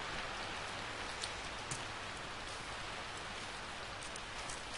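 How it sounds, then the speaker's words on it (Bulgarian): Steady rain in the game Minecraft falls loudly and continuously, a dense hiss with a few brief drop ticks and no speech. "много силно се чува този дъжд"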